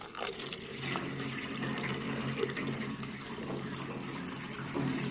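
Liquid poured by hand while making waragi, a local crude alcohol in Uganda, indoors from a tank; a steady splashing trickle runs throughout at close range with no talk.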